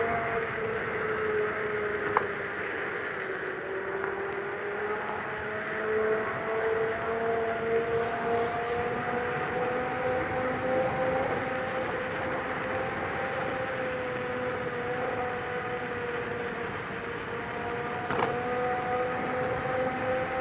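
An unrestricted Joyor T10 electric scooter accelerates with a steady motor whine that rises slightly in pitch, over continuous wind and road rumble for about twenty seconds.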